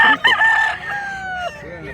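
A bullstag rooster crows once at a busy chicken market in Mantalungon, Barili, Cebu. The long, drawn-out call is loud and close, with faint crowd noise behind it.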